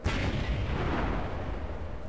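Gunfire in Vampire the Masquerade: Bloodlines: a sharp, heavy blast at the start followed by a rumbling decay over steady low background noise, moderately loud with no talking.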